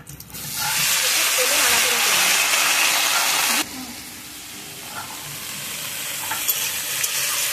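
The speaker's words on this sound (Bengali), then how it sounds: "ঝিঙে দিয়ে প্রচুর পরিমাণে জল গলে, সেই জন্য ঝিঙেটা আলাদা ভেজে নিচ্ছি" Ridge gourd frying in mustard oil with black cumin in a kadai, a loud, dense close-up sizzle that abruptly drops to a quieter, steady hiss partway through.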